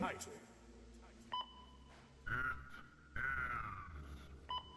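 Short electronic beeps in a sparse pattern, a few clipped tones and brief warbling bleeps separated by gaps, fairly faint, with people talking over them.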